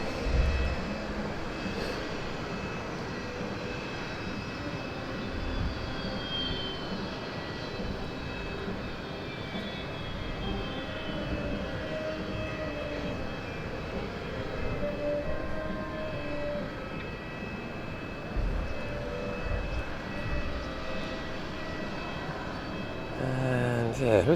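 Eurofighter Typhoon jet engines winding down at Southend Airport, a steady broadband roar with a faint high whine that holds for a long stretch, fairly loud and close, with no talk over it.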